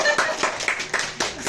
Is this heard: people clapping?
yes